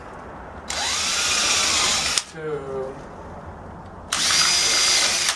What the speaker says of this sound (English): So I drill a couple holes.